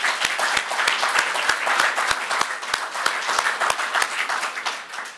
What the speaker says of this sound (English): let's give our sponsors, our suppliers, and certainly the folks at Rhode Island Country Club a big round of applause